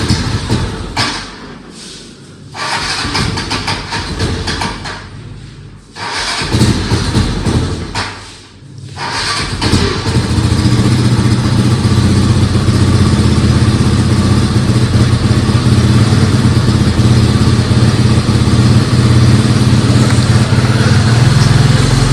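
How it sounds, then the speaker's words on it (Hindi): A motorcycle coughs through a few start attempts with pauses between, then catches and settles into a loud, steady idle that runs on close by. "करते हैं बाइक स्टार्ट अपनी।"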